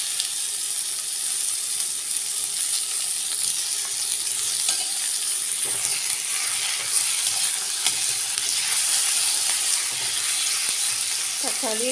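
Chopped tomatoes sautéing with browned onions in a pan for a potato and pea kurma, giving a continuous close sizzle and hiss with occasional stirring scrapes, and no talking.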